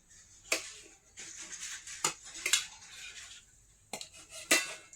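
Metal ladle clinking against a steel rice plate while food is served, several sharp separate clinks and scrapes with short pauses between them, close and fairly quiet with no talk.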